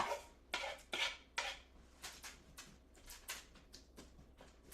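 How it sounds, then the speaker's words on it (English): Seasoned vegetable pieces tipped onto a metal sheet pan, making a run of soft clattering impacts and scrapes that come in quick irregular bursts, close and fairly quiet with no talking. "all I need to do is dump it on my sheet pan"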